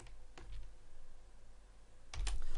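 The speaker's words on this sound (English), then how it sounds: "I'm now just going to type the word sine" A few sparse keystrokes on a computer keyboard while entering an equation in the LibreOffice or OpenOffice editor, close and soft, ending in a quick cluster of taps.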